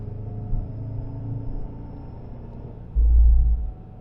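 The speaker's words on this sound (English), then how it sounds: "I can hear the snow tires over the motor almost." Snow tires on a 2022 Subaru WRX with a CVT produce a low, steady road rumble over a quiet engine inside the cabin, with a brief deeper thump near the end.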